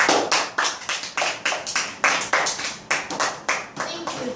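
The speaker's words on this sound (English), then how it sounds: "Let's welcome him with a big round of applause" An audience at a church Vacation Bible School event claps to welcome a guest, a brisk, regular run of distinct handclaps that stays close and fairly loud from start to finish.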